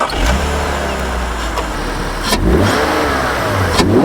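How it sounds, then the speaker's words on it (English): A BMW E46 330i's straight-six engine with a CSL-style intake revs hard under load, its deep induction roar swelling and falling in a few loud surges, close up with no talking. "you do get some very nice induction sound"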